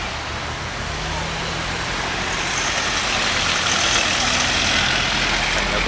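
Steady roar of rush hour traffic on a Pyongyang street in North Korea, with engines idling and passing cars, trucks and local buses, a continuous dense wash of road noise close by.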